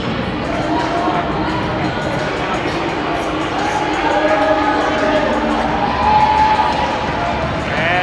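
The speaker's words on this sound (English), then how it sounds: "And to the cheers of the crowd." Crowd cheering and shouting at a varsity high school hockey game between the Lewis Palmer Rangers and Dakota Ridge Eagles, a steady broad roar of voices in an indoor rink, swelling slightly toward the end.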